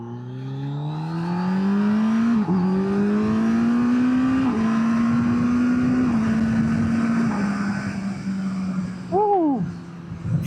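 A 2025 Kawasaki Z900 SE motorcycle accelerates at half throttle, its engine note climbing steadily through several gear shifts, loud and close in a strong onboard roar that eases off near the end.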